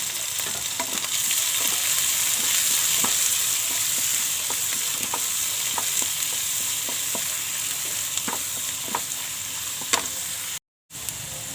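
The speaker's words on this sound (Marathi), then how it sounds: "कांदा चांगला भाजत आलाय" Onion, chopped green chilli and curry leaves frying in a pan, a steady close sizzle with occasional soft clicks and stirring scrapes throughout, no talk.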